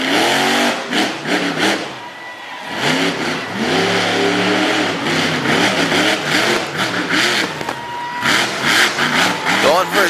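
The Overkill Evolution monster truck, driven by Mike Vaters II, revs its big engine hard and repeatedly with rising and falling roars, loud and close, while an announcer talks over it.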